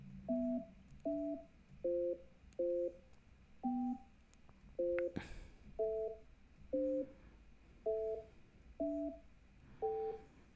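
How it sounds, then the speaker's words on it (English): A series of paired-tone beeps from a phone keypad entering a conference host PIN sounds in a steady rhythm, about eleven presses, clear and close with faint background hiss. "When finished, press the pound key."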